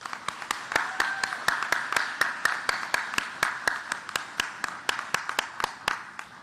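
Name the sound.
audience applause at a gala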